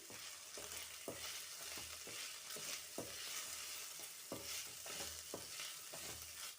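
Sautéed ginger garlic paste with turmeric and salt being stirred in a pan for lemon fried rice, a steady sizzle broken by regular spoon scrapes roughly every half second, close and alone.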